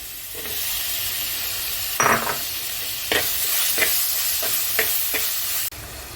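Tomatoes fry in coconut oil with onion, ginger, green chilli and garlic, giving a steady close sizzle with several sharp stirring scrapes and clinks in the pan before the sound stops abruptly.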